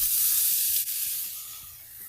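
Vegetables hitting an oiled grill for a beef stir fry ramen, a loud continuous bright sizzle with a brief dip as they land, close and steady with no talk.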